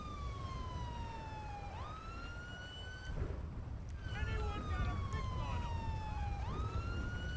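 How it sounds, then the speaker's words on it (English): A police car siren in the video game GTA5 with the LSPDFR mod, wailing in long falling sweeps that jump back up, loud and steady over background game noise. "We'll shut our siren off here."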